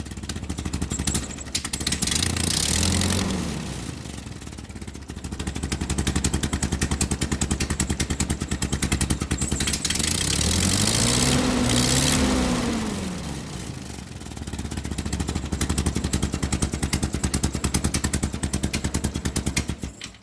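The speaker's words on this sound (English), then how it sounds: "revving the engine manually and pretty high, it does not govern all the way back to idle" A Ford 9N tractor with a faulty replacement governor, its engine revved by hand: loud, close, throbbing engine noise that rises and falls in pitch in repeated surges, with rattling clatter.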